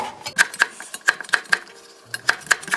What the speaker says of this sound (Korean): 홍고추는 어슷 썰어주세요